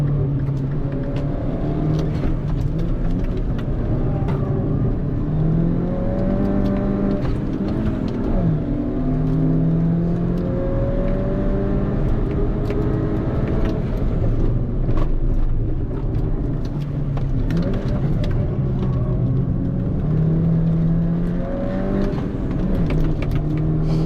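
A 2013 Mini Cooper GP engine on a race track, revving and pulling through gears with rising and falling whines, repeated up-shifts and lift-off dips, loud and continuous from inside the car.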